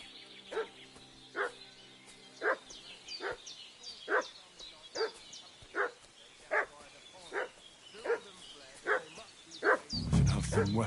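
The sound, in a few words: dog barking, from video game Kingdom Come Deliverance 2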